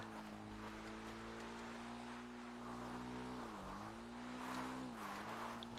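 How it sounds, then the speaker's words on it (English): A car drives in GTA Online, a steady engine hum with pitch rising and dipping as it shifts and turns, heard alone at moderate volume. "Let me drive down here."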